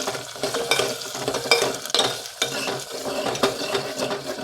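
Onions hit hot oil in a pan and are stirred, producing a crackling sizzle broken by irregular scraping and tapping of a spatula against the pan, loud and close with no talking.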